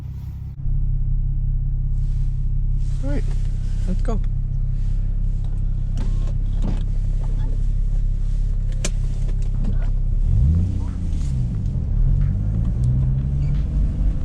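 Infiniti G35 sedan with a modified exhaust, a steady low rumble while driving that swells into a deeper, wavering roar near the end as the throttle changes, with people talking briefly over it.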